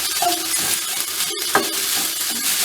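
Rice and kale sauté in a pan with a loud, continuous sizzle and a few brief stirring scrapes, close up and without speech.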